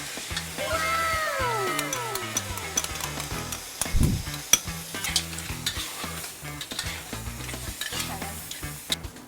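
Crab curry with fish sauce and sugar being stirred in a pan, steady sizzling with repeated scraping strokes; a cat meows several times partway through.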